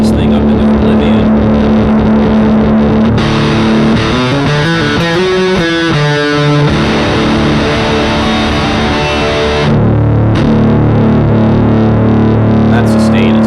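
An electric guitar runs through a new Maestro overdrive effects pedal, producing loud, heavily distorted chords and a run of notes that ring out in a long, unbroken sustain.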